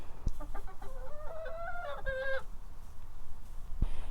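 Chickens on an allotment cluck nearby in a run of short, rising calls over a constant outdoor rumble, with a couple of sharp knocks.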